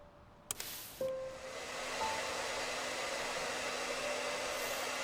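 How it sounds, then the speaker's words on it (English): Air blow gun in the cleaning game Undusted: a click, then a steady loud rushing hiss of blown air that swells and holds, heard alone with no voice. "Oh, the air blow gun."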